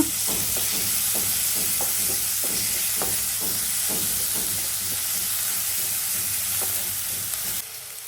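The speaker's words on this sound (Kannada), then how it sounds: "ಚೆನ್ನಾಗಿ ಈರುಳ್ಳಿ ಹುರ್ಕೊಂಡಾದ್ಮೇಲೆ ಟೊಮೆಟೊ ಹಾಕಿ ಎಣ್ಣೆಲಿ ಚೆನ್ನಾಗಿ ಹುರ್ಕೊಳ್ಬೇಕು" Onion and tomato fry in hot oil for egg bhurji with a loud, steady sizzle. A spoon scrapes and stirs in a regular rhythm through most of the stretch.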